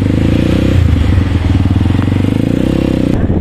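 A Honda 155 pit bike fitted with a racing clutch lining and clutch springs roars loudly at close range during a test ride, its engine chugging steadily with rattling mechanical clatter and no speech.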